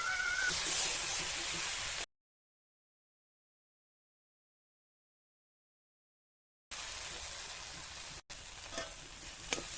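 Katla fish masala with salt and turmeric sizzling in hot oil while being stirred, a steady loud frying hiss, broken by a gap of silence and then resuming with scraping stir sounds.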